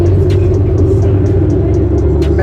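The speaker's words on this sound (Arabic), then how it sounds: "can we start the engine," Fully electric car producing an artificial V8 engine sound on startup: a loud, close, deep rumbling idle with steady low throb and faint ticking on top.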